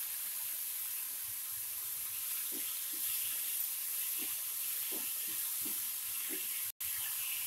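Moong dal frying in a pan for a Diwali veg thali, giving a steady soft sizzle and hiss with faint scattered crackles, fairly quiet and close, with no talk.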